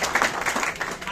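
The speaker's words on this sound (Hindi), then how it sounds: "और एक बार मैं जोरदार ताली चाहूंगा सबके लिए" Brief burst of crowd clapping at a group celebration event, a short steady patter of many hands mixed with voices.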